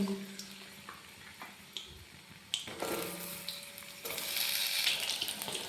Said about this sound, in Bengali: এবার পটলগুলো একে একে দিয়ে লাল লাল করে ভেজে নেব